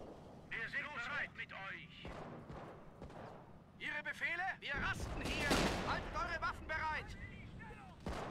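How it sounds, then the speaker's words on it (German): Heavy bursts of gunfire and artillery-like booms in a World War II strategy game, loud and sustained in the middle, with voices shouting in between. "Der Beschuss ist einfach zu stark!"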